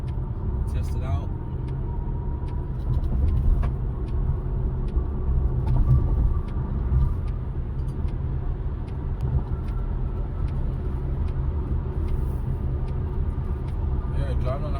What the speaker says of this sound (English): Yeah, driving on the highway, normal cruising.